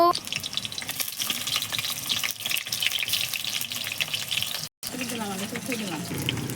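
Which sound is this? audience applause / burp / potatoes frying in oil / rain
potatoes frying in oil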